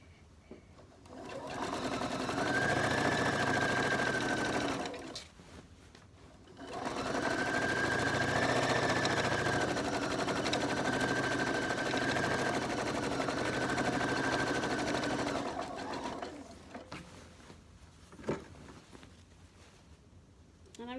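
A sewing machine stitching a quarter-inch seam on quilt pieces, whirring in two long steady runs of several seconds with a brief pause between them, close and even, then stopping for light handling noises near the end.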